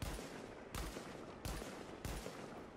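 A fast-firing sniper rifle in the video game The Division lets off four heavy, evenly spaced shots, each a sharp loud crack with a booming tail, with no talk.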